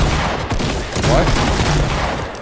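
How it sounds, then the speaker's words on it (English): Shotgun blasts go off at close range in a Fortnite-style shooter, several sharp, loud reports in quick succession with a dense, rough burst of gunfire in the middle of the stretch. "I shot that guy point blank in the head and it did zero damage."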